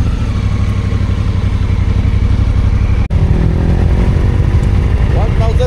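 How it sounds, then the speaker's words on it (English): A Honda Africa Twin 1000 cc motorcycle engine rumbles steadily and loudly at close range, with a brief cut midway and a slight rise in pitch near the end; voices are present alongside the engine. "cc. 1000 cc, yeah. Honda Africa Twin."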